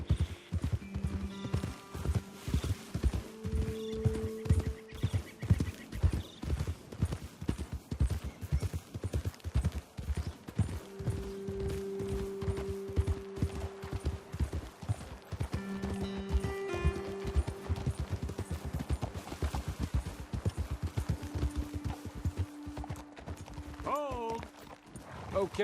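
Horses walk steadily across the terrain in Red Dead Redemption 2, their hooves clip-clopping in a close, continuous rhythm for the whole stretch, with an occasional whinny near the end and characters talking over the hoofbeats.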